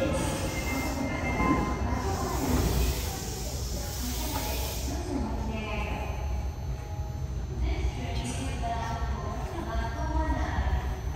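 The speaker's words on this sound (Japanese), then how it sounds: "1番ホームの電車は真駒内行きです。" Subway train at platform 1 of Asabu station, bound for Makomanai, rumbles steadily through the whole stretch, with wheel squeal and rail noise staying loud and close.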